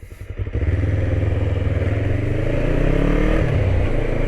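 A Kawasaki ER5 motorcycle, running again after seven years and smoking heavily, starts up and settles into a loud, steady, close-up engine drone with a faint rhythmic pulse, building slightly as it goes.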